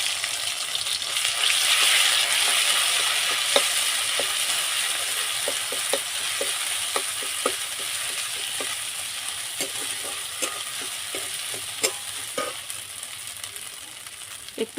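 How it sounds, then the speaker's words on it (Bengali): Dried red chillies, cumin and spices sizzling in hot oil in a pan, a steady bright crackle with scattered sharp pops and occasional stirring scrapes, close and loud for the whole stretch. "দুটো শুকনো লঙ্কা, একটু জিরে, মশলাটা দিয়ে দেবো তেলের উপর।"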